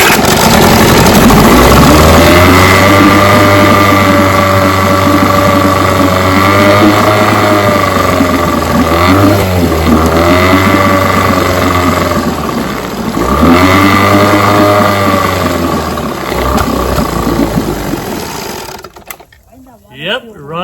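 A 9.5 HP Johnson outboard motor, carburetor freshly rebuilt, runs steadily, its engine note rising and falling through a couple of revs, then cuts out near the end.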